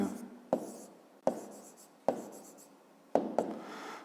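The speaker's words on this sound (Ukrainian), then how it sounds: "Записуємо." A hand writes down a measurement during a school maths exercise, producing close pen or pencil scratching on paper in four short strokes, each starting with a sharp tap and then fading.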